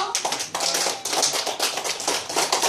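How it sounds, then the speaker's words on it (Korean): Audience at a Korean poetry gathering in Jeonju bursts into brisk, dense hand clapping, many hands at once, sustained and fairly close throughout with no voices over it. "다시 한번 박수 한번 쳐주시게요."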